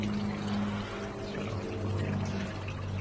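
Water from a garden pond waterfall splashes and pours steadily at close range, an even rushing wash with a low hum beneath it and no voices.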